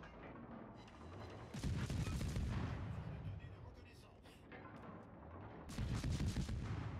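Heavy booming battleship broadside gunfire in a naval video game, a deep rolling blast that swells, fades, then a second salvo bursts near the end, loud and close.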